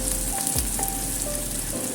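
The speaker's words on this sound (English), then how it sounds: "Stir fry green onions and ginger first. Then add in the peppers." Green onions, ginger and peppers stir-fried in a little oil in a pan, giving a steady, even sizzle that runs the whole time with no talking.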